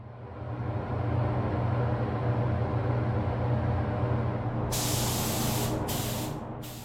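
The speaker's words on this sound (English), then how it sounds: "at the time of me spraying this motorcycle fender" Spray gun applying paint to a motorcycle fender in a paint booth, a steady hiss over the booth's low fan rumble, followed by several short, sharp bursts of spray.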